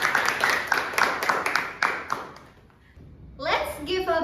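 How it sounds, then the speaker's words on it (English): A small classroom audience claps for student groups with a burst of brisk, fairly close applause that tapers off, followed by children speaking. "Let's give a big round of applause of these 3 groups"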